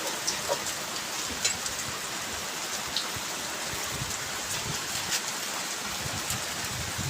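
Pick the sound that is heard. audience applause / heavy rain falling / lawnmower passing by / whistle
heavy rain falling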